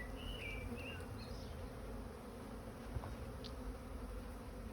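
A steady, dense hum of honeybees buzzing around an open hive during an inspection, with a few brief higher whines of individual bees passing close.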